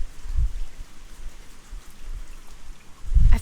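Steady rain falls outside as a soft, even patter, with two low thumps near the start and the end.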